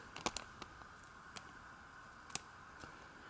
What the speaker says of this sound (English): you're going to use your scissors and you're going to round off the edge